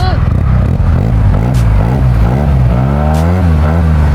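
A 2021 Yamaha TMAX 560 two-cylinder 562 cc motorcycle engine revs up and down in close, loud, rising and falling sweeps, with someone talking over it throughout.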